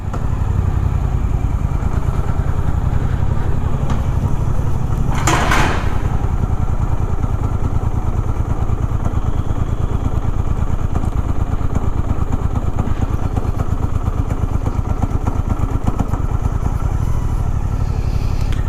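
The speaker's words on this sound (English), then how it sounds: "Suzuki GSX-8R can climb this incline in second gear at idle without throttle." A Suzuki GSX-8R motorcycle climbs an incline in second gear at idle with no throttle, its engine chugging in a low, steady, laboring pulse throughout, close and loud, with a brief whoosh of wind partway through.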